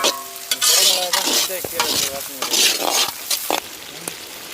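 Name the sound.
chopped capsicum frying in a pan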